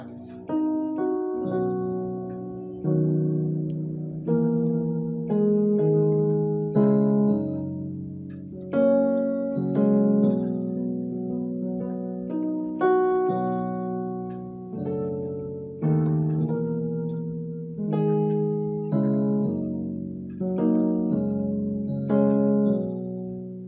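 Piano playing the chord progression of the worship song "Jesus Son of God", slow full chords struck every couple of seconds and left to ring and fade, close and warm with no talking.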